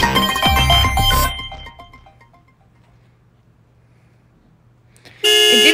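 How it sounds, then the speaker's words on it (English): Short electronic car-horn-style tones play as a phone's low-battery alert, bursting in loud and abrupt at the end after a fading musical passage and a quiet gap. "why is the low battery a car sound?"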